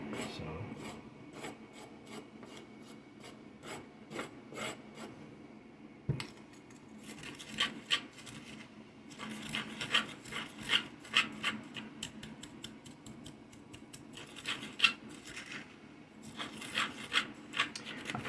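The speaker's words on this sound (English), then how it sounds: "I'll probably grind it down just a little bit more" Black salt and eggshells being ground by hand, most likely with a mortar and pestle, giving repeated gritty scraping and rasping strokes, close and fairly quiet, with short pauses and busier bursts of grinding in the second half.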